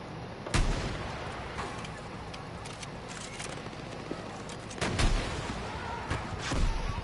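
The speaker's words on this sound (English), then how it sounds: "Anybody else gonna shoot the tank with me?" Gunfire aimed at a tank in the Battlefield 6 video game: bursts of shots and booming impacts near 0.5, 5 and 6.7 seconds stand out over a constant rumbling battlefield din, with no talk.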